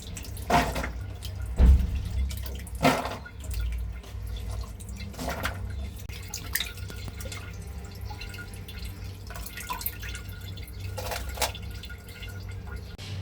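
Spring onion stalks being rinsed in a sink under running water, a continuous splashing wash with occasional louder sloshes and drips, close by and steady without speech.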